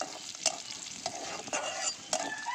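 Radish greens and winter vegetables frying in oil with garlic and dried chili, a soft steady sizzle broken by several sharp scraping stirs of a spatula in the pan, fairly quiet and close, no talk.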